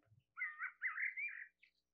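A single bird sings a bright, warbling phrase lasting about a second, clear and fairly close against a quiet background.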